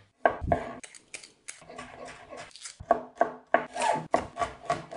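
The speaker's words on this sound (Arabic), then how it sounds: "أول شي بنفرم حبة جزر، 2 توم و2 بصل." A knife cuts carrot, garlic and onion on a board in a series of irregular, close chopping and scraping strokes, with short pauses between bursts.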